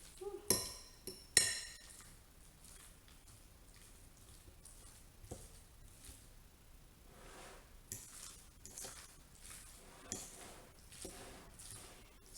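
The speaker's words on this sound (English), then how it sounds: "A lot of mixing and stirring." A utensil mixes and stirs potato salad in a bowl, giving soft, irregular scraping and clinking taps against the bowl. The sounds are faint and close, with a couple of louder clinks near the start.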